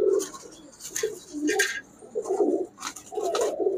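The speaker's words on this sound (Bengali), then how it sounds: "এটা পারদ চোখের কবুতর।" Pigeons coo in soft, repeated throaty phrases close by, a few rounded burrs with short pauses between them, with faint rustling and no speech.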